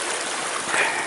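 Creek water running over rocks at a trail crossing in Pixley Falls State Park, a steady broadband rush close by with a slight swell near the end, no voices.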